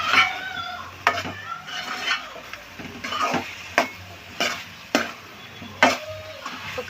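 Chicken and potatoes frying with chili powder in a pan, a steady close sizzle broken by repeated scraping and clanking strokes of a stirring spoon at a loose, roughly once-a-second rhythm.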